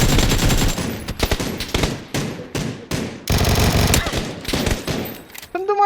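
Rapid automatic gunfire from a video game, with dense repeated bursts and short gaps between volleys, loud and close, ending in a brief electronic tone.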